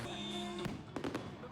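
Fireworks bang at the 61st Bonfire and Fireworks Night, with a few sharp bursts close together over a steady crowd and ambient murmur, and voices faintly audible underneath.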